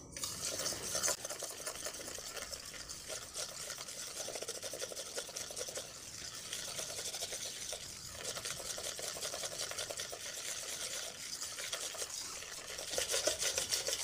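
A spoon stirs sugar into malai for wheat-flour biscuit dough, giving steady close scraping and rubbing strokes with brief pauses and no talking.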